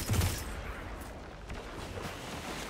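A fusion rifle fires in the Destiny video game: a loud, low blast right at the start, then a dense, rumbling wash of gunfire and noise that fades slightly but holds steady.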